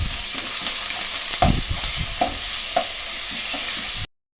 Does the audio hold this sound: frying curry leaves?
yes